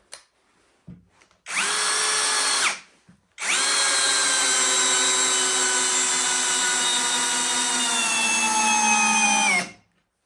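An Eltos DA-16 BL brushless cordless drill driver runs at second speed while driving a screw. Two loud, steady whirring bursts come close up: a short one, then a longer sustained run, with a pause between them and no talk.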